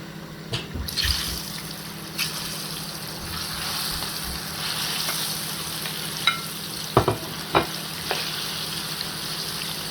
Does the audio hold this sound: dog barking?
no